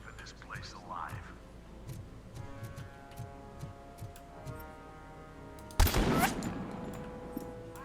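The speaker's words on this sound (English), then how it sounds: "Damn snipers." Sniper gunfire in Robocop: Rogue City, one loud sharp shot ringing out late after quieter game ambience with faint clicks and voices beneath.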